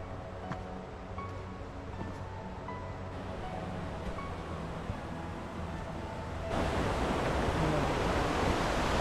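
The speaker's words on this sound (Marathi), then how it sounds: "आपण पाण्याच्या प्रवाहाच्या बाजूला येऊन पोहोचलो होता" A river stream flows near a waterfall in the Sahyadri hills as a steady broadband rush, fairly near, growing louder and fuller toward the end, with no voices.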